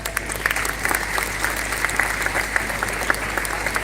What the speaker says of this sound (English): Clap everyone.